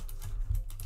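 Computer keyboard typing, a few quick soft key clicks close to the microphone over a brief moment, alone without talk.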